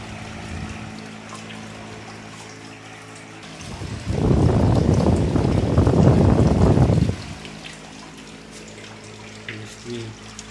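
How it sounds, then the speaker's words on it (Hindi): Water circulating in a 12V DC solar room air cooler with its pump switched on, a steady broadband rush that swells for about three seconds mid-clip over a constant motor hum, then drops back to the quieter hum. "इसकी रनिंग में ये पानी चल रहा है इसका।"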